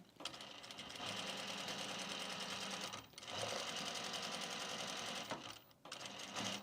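A sewing machine stitches binding over a seam on a fabric travel bag. It runs in steady, fast bursts, pausing briefly twice, close and alone without speech.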